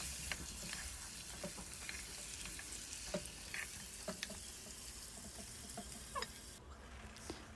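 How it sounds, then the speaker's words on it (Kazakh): Marinated meat frying in hot oil, a steady dense sizzle with scattered pops and crackles throughout, close and continuous with no talk. "Міне, қызып тұрған майға салып"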